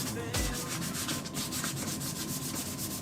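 A car wheel sanded by hand, a close, steady rasping rub of abrasive paper over the metal with one hard knock near the start, no talking.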